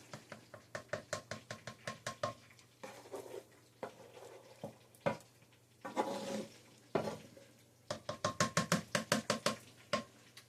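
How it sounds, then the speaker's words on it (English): A spoon stirs ground meat, onions and peppers into a pot of chili, making rapid rhythmic knocks and scrapes against the pot in bursts, close and clear with a faint sizzle between strokes. "we're going to stir that in"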